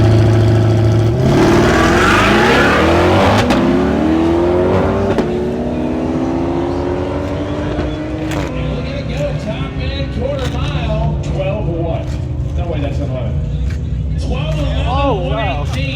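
A brand-new 2020 C8 Corvette tears down a quarter-mile drag strip at TX2K20, its engine note climbing steadily as it accelerates hard. It stays loud and close throughout, with voices mixed in underneath.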